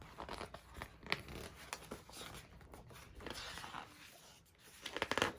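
Scissors snipping through paper to cut out pictures, a quick series of faint close crisp snips and rustles with short pauses, no talk.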